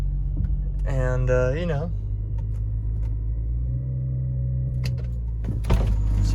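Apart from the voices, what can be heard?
BMW 335i engine at raised idle, car moving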